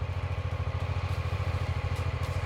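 BMW F 450 GS motorcycle engine idles in first gear with the clutch released, a steady close chugging pulse that stays even throughout with no talk.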